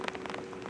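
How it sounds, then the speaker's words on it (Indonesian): Heavy rain in western Aceh, Indonesia, during landslide flooding, a steady broadband wash of drops striking surfaces with brief splashy bursts, loud and continuous for under a second with no voices. "hujan lebat terus mengguyur kawasan itu"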